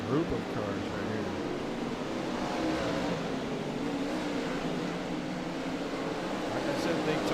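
Race cars roaring past on the big track at Charlotte, a steady far-off engine drone with a commentator talking over it.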